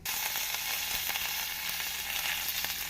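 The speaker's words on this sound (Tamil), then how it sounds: "நாம் கடுகு, உளுந்து பொரியவும் பெருங்காயத்தூளை போட்டுக்கொள்ள வேண்டும்" Mustard seeds, urad dal, dried chillies, curry leaves and asafoetida fry in hot oil for tamarind rasam, with a loud, steady sizzle and frequent small crackles and pops throughout.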